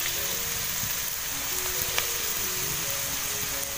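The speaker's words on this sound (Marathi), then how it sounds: "आता ही भाजी टाकूया आपण" Wild bharang greens and onion frying in hot oil, a steady close broadband sizzle that holds evenly throughout with a faint clink midway and no talking.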